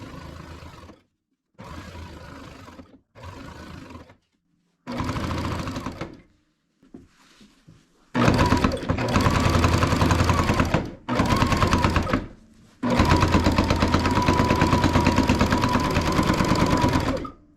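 A Baby Lock Jazz II sewing machine stitches quilt binding in short separate bursts of running, then in longer, louder continuous runs, close and alone.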